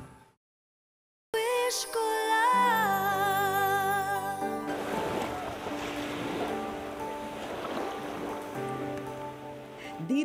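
Ocean waves rolling onto a beach shore in the morning, a steady broad wash of surf with wind noise, partly overlaid at first by sustained tonal sounds before the surf continues alone.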